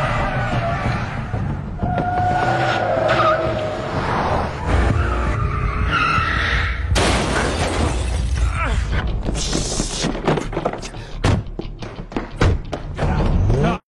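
A film car chase from a gangster crime movie: loud tyre skids and squeals mixed with impacts, crashes and shattering glass, with voices over the chaotic engine noise.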